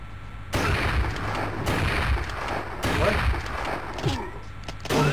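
Gameplay gunfire from the PS1 beat-'em-up Fighting Force: repeated booming shots in a dense, sustained burst with short gaps, loud and full, while a player talks faintly underneath.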